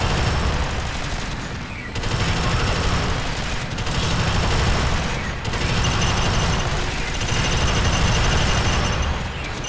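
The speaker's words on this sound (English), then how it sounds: "Sentry gun's running low on ammo." Sentry gun in the sci-fi shooter Alien Swarm keeps up dense, continuous automatic fire, loud and close, with brief lulls around every few seconds between sustained bursts.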